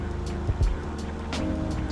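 A Grumman Tiger light aircraft engine roars at full power at about 2300 RPM during the takeoff roll, a loud, steady, droning rumble heard from inside the cockpit.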